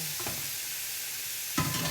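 A steady broadband sizzle of chicken frying in a hot pan, with a soft clunk near the start and a louder burst of sizzling near the end.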